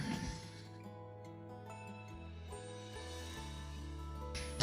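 A Tonic Craft Kit 60 die-cutting machine cranks paper held with washi tape through its rollers, giving a steady close mechanical grinding with faint ratcheting clicks and no voices.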